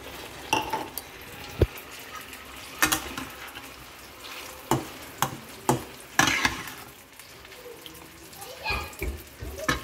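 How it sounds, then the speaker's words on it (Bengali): Warm water going into a pan of frying dry fish (lote shutki), bursts of sizzling and spitting broken by sharp clinks of a utensil against the pot, with a voice speaking in between. "এবার এর ভেতরে একটু উষ্ণ গরম জল দিয়ে দেবো"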